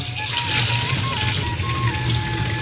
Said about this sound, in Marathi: ह्याच्यावरती थोडंसं पाणी घालून धुवून घेणार आहोत